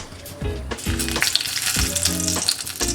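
Bay leaves and whole spices sizzle and crackle in hot white cooking oil in a pan, a loud, steady fry with bursts of popping throughout, no talking.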